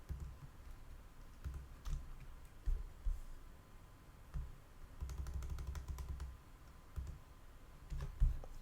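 A computer keyboard is typed on while a git command is entered for a Flutter project, with irregular bursts of close key clicks and short pauses between runs of keystrokes, no voices.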